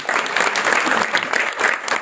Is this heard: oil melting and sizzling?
no